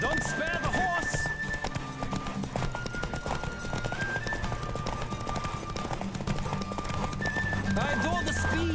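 A horse racing at full gallop in Witcher 3: Wild Hunt, rapid steady clip-clop hoofbeats throughout with a whinny, under a voice talking.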